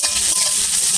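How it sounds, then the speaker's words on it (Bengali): Chopped onion frying in hot mustard oil while being stirred in a pan, with a continuous close hiss of sizzling and soft scraping throughout. "ভালো করে নেড়ে পেঁয়াজটা ভেজে নেব।"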